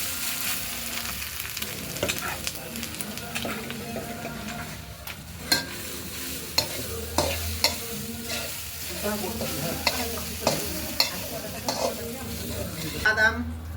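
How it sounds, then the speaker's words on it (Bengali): Grated coconut fries in oil while a spoon stirs it steadily, producing a constant sizzle with repeated scraping strokes and occasional louder clanks against the pan, close by. "তেল দিয়ে নারকেলটা ভাজে দিব"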